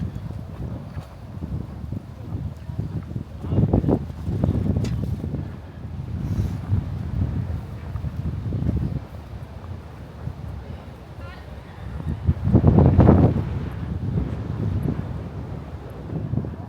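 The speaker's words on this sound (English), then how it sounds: "Again, another windy day today, a little bit cool" Gusty, cool wind buffets the microphone in low rumbling surges, rising strongly twice, with faint voices and outdoor bustle underneath near the courtyard of Süleymaniye Mosque, Istanbul.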